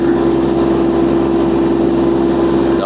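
A TYM T254 tractor engine runs with a Bilodeau snow blower attached while clearing snow, a loud, steady droning hum that holds without a break from start to finish.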